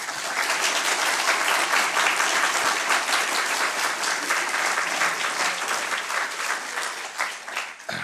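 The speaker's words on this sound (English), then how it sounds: "If you could all give them a round of applause." A debate audience breaks into sustained applause, dense clapping from many hands that holds steady for several seconds before tapering off.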